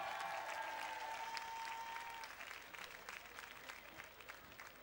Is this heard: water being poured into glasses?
no